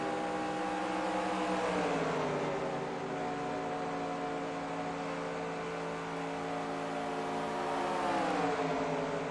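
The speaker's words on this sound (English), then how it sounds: "And meanwhile, I'll go on board with Ryan Johnson. Take a listen here." Onboard engine drone of a race car in a racing video game at Texas, a steady sustained roar with gentle pitch shifts as the revs ease down and back up, heard alone.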